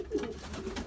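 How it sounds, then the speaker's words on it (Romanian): Male racing pigeon in a breeding loft cooing, a soft low rolling coo repeated in quick pulses, close by with no talk. "Deci masculul care cântă acolo este masculul."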